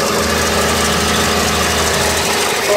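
A 1986 Chevrolet C10 pickup engine idles with a steady, loud, even rumble and a fine rhythmic knock throughout, close up with no talking.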